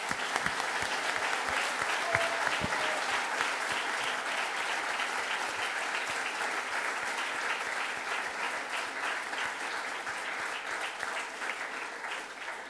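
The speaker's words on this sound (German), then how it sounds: "Der Jubel ist allgemein" Dense, sustained applause and cheering from a large crowd at a political party rally, steady and loud for the full length with a continuous wash of many hands and voices.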